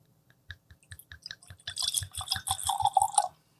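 Woodford Reserve Historic Barrel Entry bourbon poured into a glass, beginning as separate drips and splashes, then a denser close trickle of liquid that stops abruptly.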